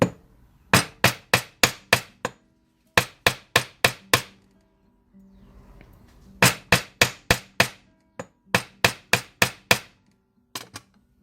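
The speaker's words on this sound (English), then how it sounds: "And we could hammer it to spread even more too if we want." Repeated hammer strikes flatten a coiled wire snake made on a wire-bending jig, sharp metallic blows in quick bursts of four to six, with a brief rustle between groups, close and loud.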